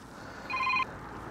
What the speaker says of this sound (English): My Alcatel's ringing.